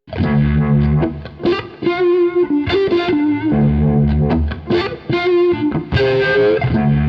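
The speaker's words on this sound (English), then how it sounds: "this is the Retro Vibe into the Axis Fuzz with the volume on the guitar at about 5" Electric guitar running through a Retro Vibe into an Axis Fuzz pedal with the guitar volume near half, a fuzzy, swirling phrase of sustained and bent notes, loud and close with no voice.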